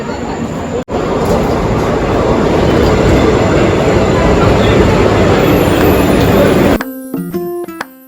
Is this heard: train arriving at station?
yes